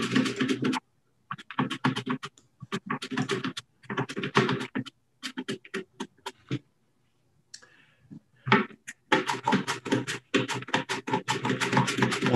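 A knife chops vegetables on a board in preparation for lacto-fermentation, making quick rhythmic bursts of sharp taps. Short silent pauses separate the runs of cuts.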